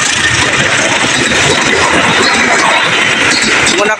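The Majapahit passenger train, hauled by a CC 201 diesel locomotive, rushes straight through Cikarang station with a loud, continuous roar of engine and rolling wheels, close and dense throughout.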